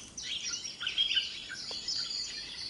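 Bright high-pitched chirps and trills from a bird ring out repeatedly over a faint outdoor hiss, with no one speaking.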